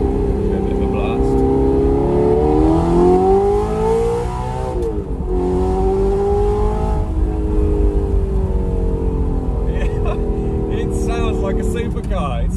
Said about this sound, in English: Just an incredible sounding exhaust, and it looks great as well.